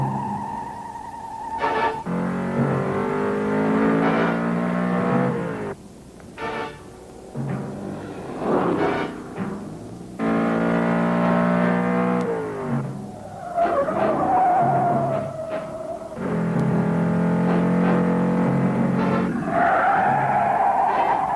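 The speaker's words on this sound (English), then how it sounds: "Our driver twisted this Challenger every way but loose" A 1971 Dodge Challenger driven hard, its V8 revving through rising gear pulls with long tire squeals and skids, loud and close, with brief lulls between bursts of acceleration.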